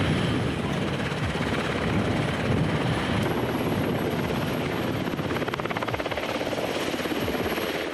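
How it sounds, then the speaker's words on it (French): A helicopter flies in to drop off three replacement tyres for armoured vehicles, its rotor and turbine making a loud, steady, continuous roar that holds through the whole stretch with no voices. "Cet hélicoptère apporte la livraison du jour,"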